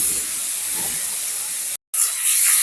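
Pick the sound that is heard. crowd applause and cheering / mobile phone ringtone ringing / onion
onion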